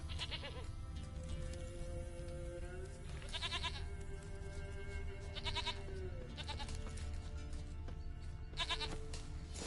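Goat bleats in The Witcher 3, several loud wavering calls over a steady low ambient game hum, no talking.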